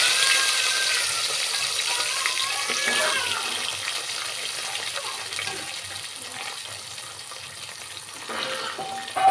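Cumin seeds sizzle in hot oil in a pan as a steady, close hiss. The hiss fades slightly over the clip, with occasional clicks and clatter in the kitchen. No one speaks.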